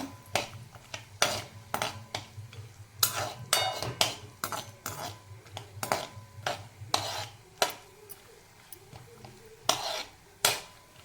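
Cashews in a spoonful of ghee stirred in a metal pan, a busy series of close clinks and scrapes of the spoon against the pan, irregular and loud, over a low background hum.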